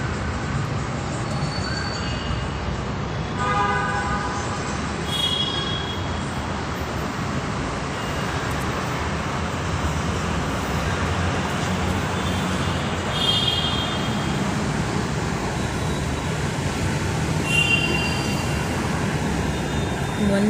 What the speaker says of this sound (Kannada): ಬರ್ತಾಯಿದೆ ಟ್ರೈನ್, ನಮ್ಮ ಬೆಂಗಳೂರು, ನಮ್ಮ ಹೆಮ್ಮೆಯ ಬೆಂಗಳೂರು ಮೆಟ್ರೋ ಟ್ರೈನ್ ಬರ್ತಾಯಿದೆ ನೋಡಿ